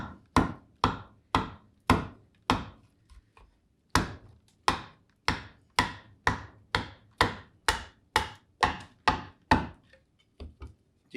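Hand tool chipping a green wood heart-shaped bowl, about twenty crisp, sharp knocks in a steady rhythm with short pauses, each cut clear and close.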